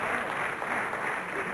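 A crowd applauds after Doris Dragović's win at Dora 1999, a steady broadband wash of clapping that holds at an even level throughout, with no voices standing out above it.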